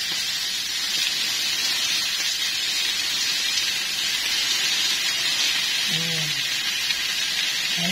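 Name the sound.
cabbage added to hot pan, sizzling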